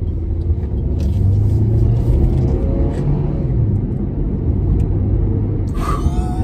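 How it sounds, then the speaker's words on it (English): A supercharged Honda Civic with very high mileage accelerates out of a corner, a loud, steady, low engine rumble heard from inside the car with no talking, and a brief sharp whine near the end. "I'm gonna rip out of this corner just to my right here and show you just how well this thing actually handles and how quick it accelerates"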